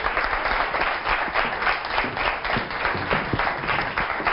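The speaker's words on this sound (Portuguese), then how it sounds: "Uma salva de palmas para a Idolinda" A studio audience on a TV show claps in steady, dense applause, loud and continuous throughout, with no other sound standing out.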